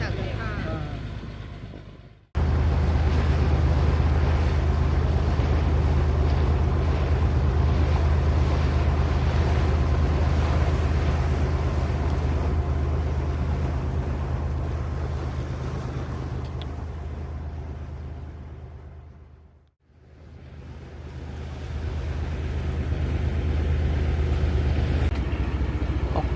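A motorboat ride on a river flowing toward the Bay of Bengal, with loud steady engine drone, rushing water and wind buffeting the microphone, and two brief dips as the sound drops away.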